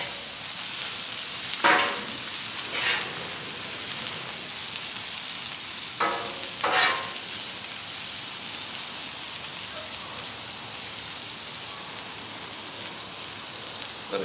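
Vegetables with kosher salt for a Philly beef sandwich frying in a pan, a continuous soft sizzle broken by a few sharp bursts as they are tossed, no talking.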